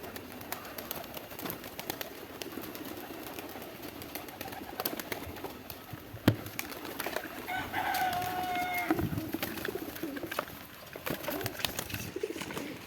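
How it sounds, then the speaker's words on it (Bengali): Pigeons coo softly on a pigeon farm in Bangladesh among scattered bird calls and light background clatter, a few soft thuds breaking the low, murmuring coos. "সব কবুতর হাজির"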